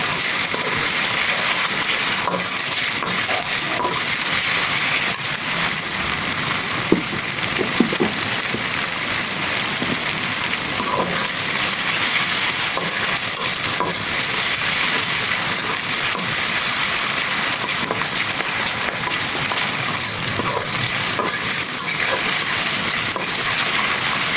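Steady, loud sizzle and hiss of spices frying in a pan alongside desi chicken pieces for a spicy curry, with a continuous crackling wash and occasional spatters and stirring, no voices.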